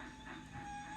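Trains running in the Railroad Tycoon video game, a steady mechanical rail rumble with a faint sustained whistle-like tone, continuous and fairly loud throughout the short stretch.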